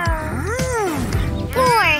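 A kitten meows in a few rising and falling cries, close and fairly loud, with a steady low tonal background underneath.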